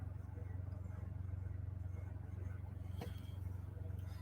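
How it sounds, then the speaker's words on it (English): Steady low rumble of idling vehicles at a truck stop, a constant engine drone with one brief sharper noise partway through, no speech. "But I have noises out here. I'm in a truck stop."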